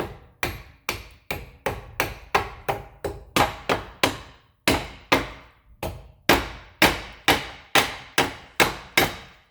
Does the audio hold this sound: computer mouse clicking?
no